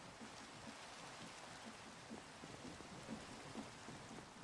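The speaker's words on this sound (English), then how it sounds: "It is raining" Steady rain falling in a video game, a dense even hiss of drops that stays constant for the whole stretch, with faint low patters underneath and no voices.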